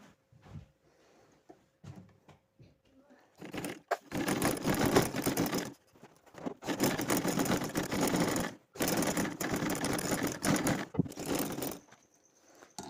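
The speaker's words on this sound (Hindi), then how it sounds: "ये मैंने सारी सिलाई लगा दी है" Sewing machine stitching a neck design on fabric runs in three long, close, steady whirring bursts with brief pauses, after quieter handling noises at the start.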